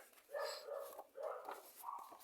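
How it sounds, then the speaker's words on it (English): Several dogs bark indoors, heard at a moderate distance in a few short bursts across about two seconds, with no talking over them. "And there go my dogs."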